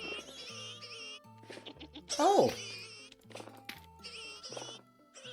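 Newborn piglets squealing in Vintage Story, a sandbox survival game, with high, pitched cries in bursts over background game music, one louder sweeping squeal in the middle, and a short exclaimed voice.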